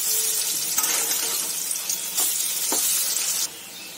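Spinach pakoras frying in hot oil, a steady dense sizzle running throughout, close and loud, with a few brief clinks from turning them and the sizzle dropping slightly near the end.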